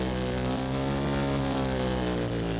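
An original 150cc motorcycle engine holds a loud, steady, close-up rev throughout, a dense sustained drone from a wheelie ride with no voices over it.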